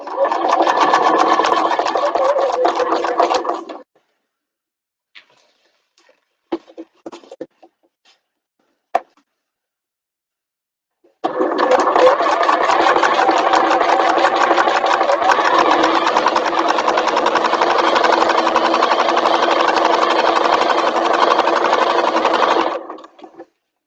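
A sewing machine stitches down the side of a bag in two steady, close runs: a few seconds of whirring, a pause broken by small clicks and taps, then a longer continuous stretch that stops abruptly.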